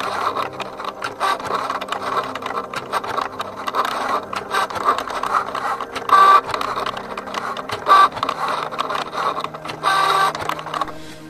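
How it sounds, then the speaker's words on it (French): A Cricut cutting machine works through lettering, a steady mechanical whir and buzz with short louder bursts as the carriage moves, heard alone and up close. "Je viens de découper mon texte à la Cricut."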